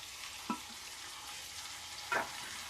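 Jackfruit curry frying in oil in a pan, a low continuous sizzle broken by two short scraping stirs, one early and one near the end, with no voices.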